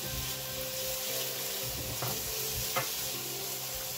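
Garlic and rice sizzling and frying in a pan with pimentón, a steady hiss with faint stirring scrapes throughout, close and fairly quiet.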